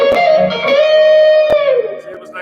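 A quick run of bright, sustained electric guitar notes slides into one long held tone that fades out, played alone and fairly loud.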